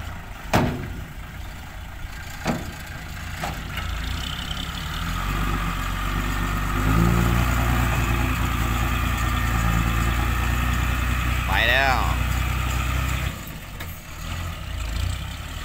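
A truck engine idles steadily on a muddy rural road, a low continuous rumble near and fairly loud throughout, with a few brief knocks and a short rising whine near the end.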